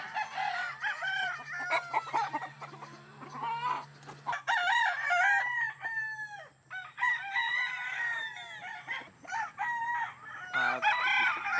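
Free-range chickens clucking and chattering nearby on a farm with several roosters crowing loudly in long, rising calls, overlapping throughout against a faint steady hum.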